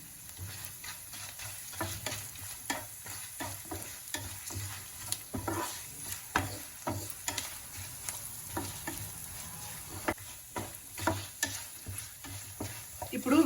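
Cashews fry in ghee for hotel-style pongal, a faint close sizzle broken by frequent rhythmic spoon scrapes and stirs against the pan, with no voices.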